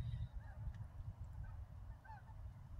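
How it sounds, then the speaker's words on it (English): Geese flying overhead during light rain give a few distant honks at intervals over steady low rumbling background noise. "Here come the geese."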